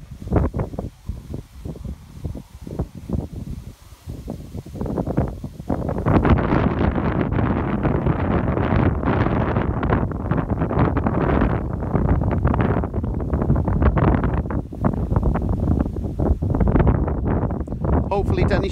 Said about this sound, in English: Yes, it's windy again, folks.